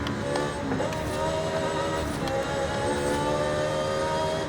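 A race-tuned 1969 Ferrari Dino 246 GT engine in a video game hums and revs steadily with a layered, slightly synthetic tone, continuous and fairly loud throughout, with no talking.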